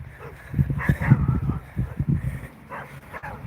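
Several angry dogs bark in a quick, dense cluster of yips and woofs, fairly close, for about two seconds, then die down to quieter movement.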